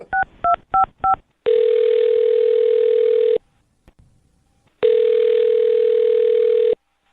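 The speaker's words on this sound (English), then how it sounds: "I'm going to dial his phone number right now and see if we can get him on the phone." A phone number being dialed: four quick, clear touch-tone beeps, then two long, steady ringing tones separated by a short silence, all close and loud with no talking.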